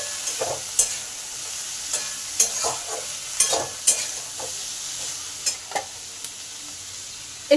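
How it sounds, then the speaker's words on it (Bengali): Potatoes and vegetable stems are stirred in a pan, with a gentle oily sizzle underneath and sharp, irregular scrapes and clacks of the spoon against the pan, close up, with no voices. "আলু আর ডাঁটাটা ভালো করে নেড়ে নিলাম।"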